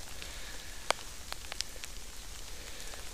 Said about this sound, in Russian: Идет дождь